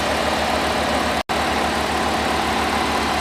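A Jaguar XF 3.0 diesel engine runs with a steady, low idling rumble close by, briefly cutting out for an instant before carrying on at the same level.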